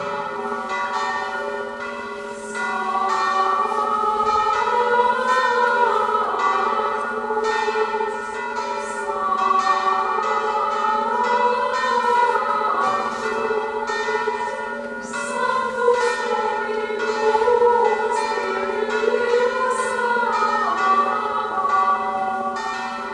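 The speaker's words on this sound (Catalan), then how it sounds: "em van sobresaltar les campanes de l'església llançades al vol" Church bells of a parish church swing and ring out at full peal, a loud, continuous wash of overlapping clangs that keeps going without pause.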